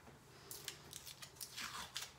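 Quiet, close tearing and snipping as tape is pulled and cut, a series of short crisp bursts with small gaps, no voices.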